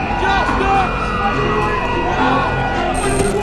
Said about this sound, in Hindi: हजारों की संख्या में युवाओं ने सरकार के खिलाफ जबरदस्त प्रदर्शन किया